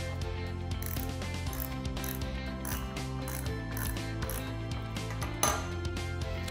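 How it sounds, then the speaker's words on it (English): Rapid metallic clicking from a ratchet tightening projector mount screws into a T-plate comes in quick repeated bursts, close and clear with no talking. "I just then tighten each one down with the ratchet."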